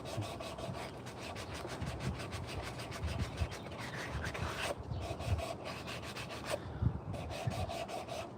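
Steady back-and-forth rasping of sandpaper over a hand-carved wooden spoon, close and continuous with rhythmic strokes and brief pauses, no voices.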